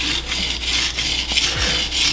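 A damaged knife tip is being sharpened, giving a continuous close, gritty scraping of steel across an abrasive surface in rhythmic strokes.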